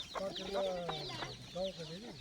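Free-range village chickens and chicks on a farm cluck and chirp close by in a busy, overlapping chorus, with a voice briefly mixed in.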